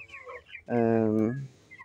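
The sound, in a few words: 22-day-old farm chickens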